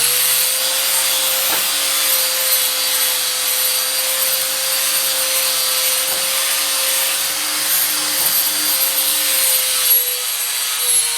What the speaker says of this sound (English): we're going to hit this thing with a flat disc a little bit